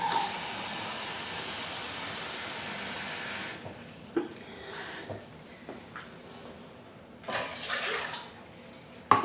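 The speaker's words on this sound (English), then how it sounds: "We are going to take 1 cup of water," Water poured steadily into a measuring cup in a kitchen while making Kool-Aid rock candy syrup, a hissing rush lasting about three and a half seconds, followed by quieter knocks and light splashes.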